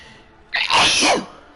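A single sharp sneeze bursts out close and loud after a brief quiet moment, with no talking around it.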